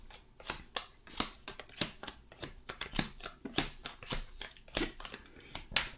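A tarot deck is cut and reshuffled by hand on a table, giving a quick series of crisp card slaps, riffles and slides in an irregular rhythm, close and fairly quiet, with no talking.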